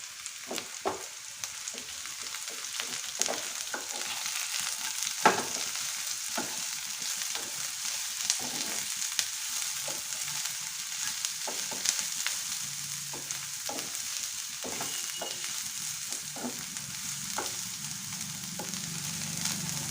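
Carrots stir-fried in a hot pan for veg chowmein give a steady, close sizzle, broken by frequent clicks and scrapes of a spatula stirring through the vegetables, with no voices.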